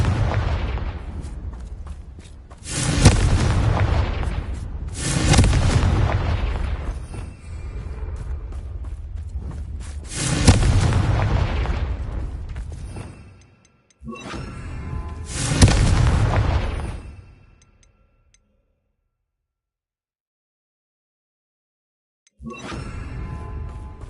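Fire and blast spells going off in the game Hogwarts Legacy, several loud booming bursts spaced a few seconds apart, each with a rushing whoosh that trails away, separated by gaps including a near-silent stretch before a final burst.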